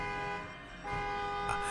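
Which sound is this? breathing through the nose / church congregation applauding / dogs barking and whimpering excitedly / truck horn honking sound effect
truck horn honking sound effect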